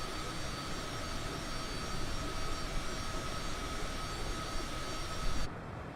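A Cessna Citation CJ4 business jet cruises at altitude in Microsoft Flight Simulator, a quiet, steady jet-engine drone with an even whine that barely changes throughout.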